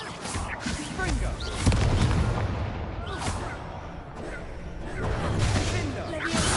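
A Confringo spell explodes in Hogwarts Legacy amid heavy combat, with loud booming blasts and crashing impacts under frequent shouted spell voices, dense and close.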